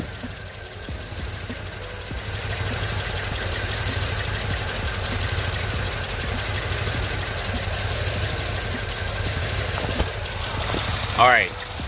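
Mercedes C63 engine idling with cylinders 1 and 2 unplugged, a steady low rumble with faint ticking, heard up close and unbroken, with a brief rising whine near the end.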